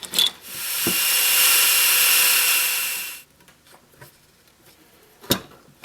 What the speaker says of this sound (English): I'll go ahead and drill a pilot hole, or a test hole rather,